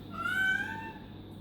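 A pet cat at home lets out a single clear meow, drawn out and rising, then falling. It is fairly close and sits over faint background hum.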